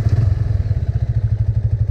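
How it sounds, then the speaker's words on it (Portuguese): A motorcycle engine starts and settles into a loud, close, steady idle, a fast rhythmic chugging thump with nothing else heard. "Vou dar a partida nela aqui agora."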